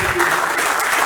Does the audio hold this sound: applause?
yes